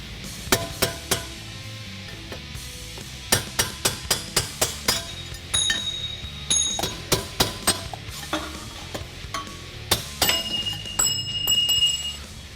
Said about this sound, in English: Now you want to grab a large punch so you can work out the bearing races.